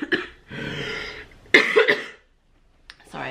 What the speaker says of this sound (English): Sorry, I still have a bit of a cough.